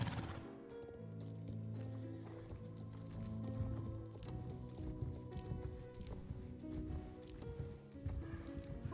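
Horses at a castle walk with steady hoof clip-clop while an occasional neigh rises over a busy, continuous background; no one talks.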